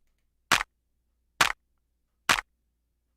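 Three sharp, dry clap samples from a house beat, spaced about a second apart with slightly uneven timing, each short and crisp against silence.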